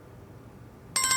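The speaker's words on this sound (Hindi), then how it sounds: "मैं एक काम करती हूँ, मिनी को फोन लगाती हूँ।" An outgoing phone call starts ringing: after a near-silent pause, a short electronic ring tone cuts in abruptly at the very end.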